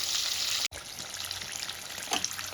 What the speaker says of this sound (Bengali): ডিমগুলোকে আমি এরকম হালকা ব্রাউন করে ভেজে নিচ্ছি।